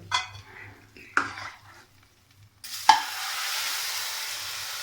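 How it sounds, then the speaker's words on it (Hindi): Cardamom hits hot desi ghee for a tempering poured over carrot gajrela, bursting into a loud, sustained sizzle after a sharp metallic clank, following a few earlier utensil clinks against a pot. "इलायची को कड़कड़ाने दें, फिर इसका तड़का लगाते हैं देसी ये गजरेले पर"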